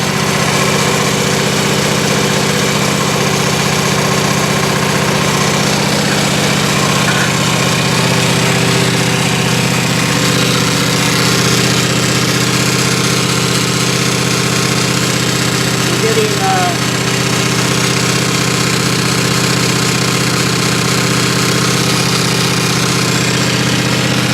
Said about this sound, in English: it's starting up and I have my foot on the brake or the clutch